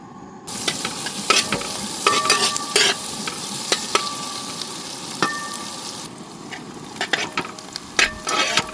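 Sliced onions fry in coconut oil in a pan, a steady close sizzle broken by repeated scraping and clinking stirs of a spoon against the pan.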